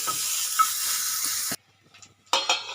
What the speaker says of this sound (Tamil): இதுலேயே நம்ம ரெண்டு கொத்து கருவேப்பிலையும் போட்டுடலாம் வதங்குறதுக்கு சரிங்களா இந்த எண்ணெயிலே இது வதங்கட்டும்